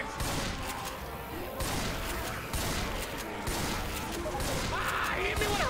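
Rapid gunfire and impact bursts from the zombie shooter Left 4 Dead 2 crowd a chaotic in-game soundscape, dense and continuous, with voices talking over the shooting.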